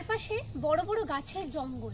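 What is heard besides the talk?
crickets and insects chirping in Salboni forest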